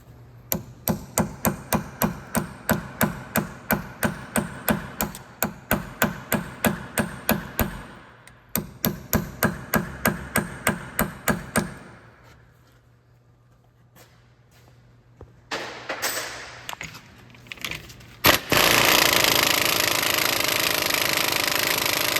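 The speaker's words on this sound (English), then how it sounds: "I usually just take a sharp punch, put it in there, and unstake it." A sharp punch is hammered against the staked axle nut on a 2006-2018 Toyota RAV4 front hub in rapid bursts of close metallic blows. A pause and a few scattered taps follow, then a steady loud noise.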